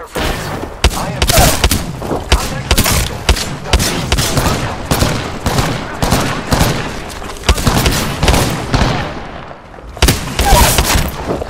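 Gunfire in the video game Apex Legends, loud repeated bursts and rapid shots with booming impacts filling most of the stretch, pausing briefly before resuming near the end.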